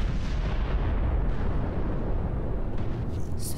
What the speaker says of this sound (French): Ce satané canon.